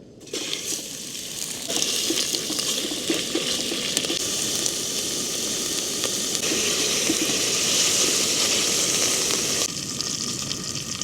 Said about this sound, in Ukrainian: М'яско у нас трошки підсмажилось і додаємо цибулю